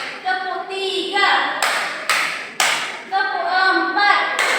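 Sharp hand claps ring out one at a time during a classroom stretching routine, evenly spaced and loud, each followed by a voice counting aloud in Indonesian.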